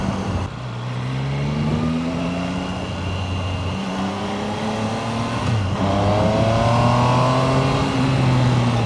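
A loud Triumph Tiger Sport 800 motorcycle engine hums and climbs in pitch through the gears, steady and close, with no talking.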